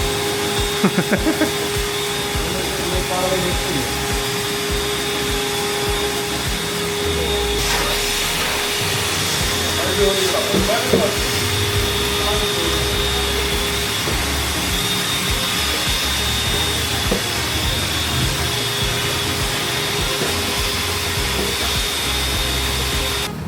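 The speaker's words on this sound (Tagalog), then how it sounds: "Grabe, yung mga asenso na, may vacuum na si Jun, no?" A vacuum cleaner drones loudly and continuously, a steady whining motor hum with slight shifts in pitch partway through.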